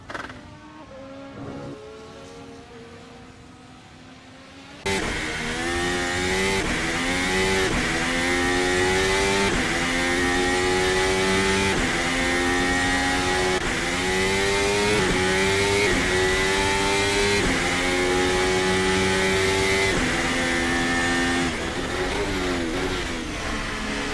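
Race cars accelerating on a track in China during last-lap trials: a loud, sustained engine howl that bursts in after a quieter start and climbs in pitch through repeated gear changes.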